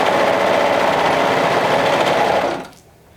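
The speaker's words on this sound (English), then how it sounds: "With the right sides together, form a loop by sewing it with a 1/4 inch seam." A sewing machine stitches a quarter-inch neckband seam in a steady, close whirring run of about two and a half seconds before stopping abruptly.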